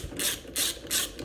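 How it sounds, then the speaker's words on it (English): A ratchet clicks in three quick bursts, close and crisp, loosening the shock absorber bolt on a Honda Reflex scooter during rear disk brake removal. "Alright, now loosen up the bolt for the shock"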